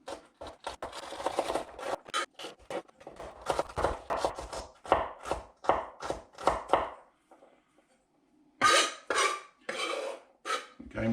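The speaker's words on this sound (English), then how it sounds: "Now we want to chop the celery, and we want it really fine." A knife chops celery finely on a board, a fast run of crisp, close rhythmic cuts, a short pause, then another quick burst of chopping, with no talk.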